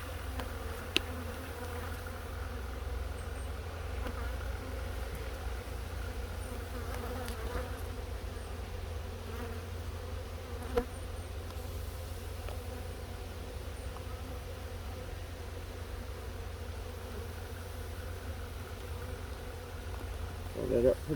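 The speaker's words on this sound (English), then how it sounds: "bees will probably fly out of the hole" Honey bees buzz steadily around a hive being readied for winter during a sugar roll mite count, a dense, continuous droning swarm close by with a few faint knocks.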